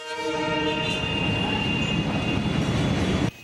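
A train approaches a level crossing in Dhaka, its horn blaring loud and continuous over the heavy rumble and clatter of the wagons, cutting off abruptly near the end.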